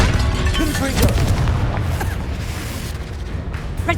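A Bombarda blast spell going off in Hogwarts Legacy, a loud booming explosion with a dense rumbling low end that holds steady through the moment amid chaotic battle noise.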